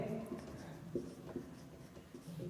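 Pen or pencil writing on paper while working a Class 10 mathematics problem, with soft scratchy strokes and taps repeating through the clip under a faint, muffled voice.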